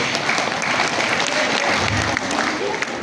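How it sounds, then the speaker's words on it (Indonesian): Teachers in a hall clap together in sustained, even applause, a dense wash of many hands filling the room at steady volume, with a few voices faintly mixed in. "tepuk tangan untuk kita semua"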